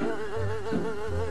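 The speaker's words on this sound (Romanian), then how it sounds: "Albina!" A cartoon bee buzzes in a close, wavering drone that rises and dips in pitch and holds steadily for just over a second, heard alone.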